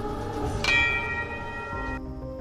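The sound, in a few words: bell being rung in a film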